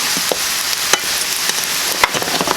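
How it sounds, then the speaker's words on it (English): Onions frying in a pan, a steady close sizzle with occasional stirring scrapes and clicks, and no voices. "we'll finish cooking up the onions here"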